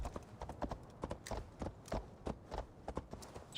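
Horse hooves clip-clop in Assassin's Creed Valhalla as the horse picks its way down steep cliffs, a brisk, uneven run of close, crisp hoof strikes with no other sound.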